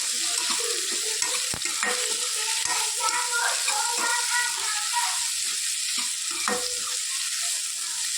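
Cabbage and onion stir-fried for Hakka noodles sizzle steadily in the pan, with a string of scraping and clinking stirring strokes on top and no voices.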